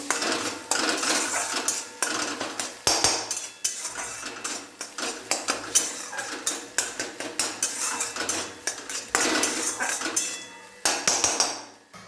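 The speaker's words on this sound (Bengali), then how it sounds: "ভালো করে নাড়াচাড়া করে নেব।" A rice mixture seasoned with salt and turmeric is stirred in a pot, giving repeated metallic scrapes and clinks of a utensil against the pot in a steady, close rhythm with brief pauses.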